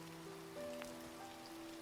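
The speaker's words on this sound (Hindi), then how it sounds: "बारिश अभी भी तेज हो रही थी।" Heavy rain patters steadily on a surface, an even wash of noise lasting throughout. Faint sustained tones sit beneath it, and no one speaks.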